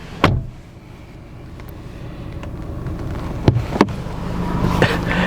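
Door of a 2020 Range Rover Evoque SE P250 shuts with a solid thump near the start, followed by quiet ambience and a couple of faint clicks and knocks.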